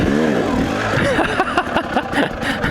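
A motorcycle engine putters at low speed during a slow pivot turn, close and uneven with small revs and clattering, while a rider's voice is heard briefly at the start.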